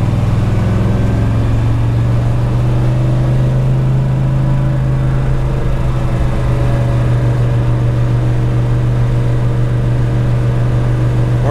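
A 1961 Pontiac Catalina with a 421ci V8 and four-speed gearbox cruises along, its engine holding a steady, loud low drone throughout with slight variations in load and no voices.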